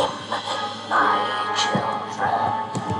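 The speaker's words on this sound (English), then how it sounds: "That sound you hear is Aragog groaning every time." Giant spider Aragog groaning in the Forbidden Forest of the Harry Potter and the Chamber of Secrets PC game, low rumbling growls swelling and fading under game ambience and effects, with a voice faintly present.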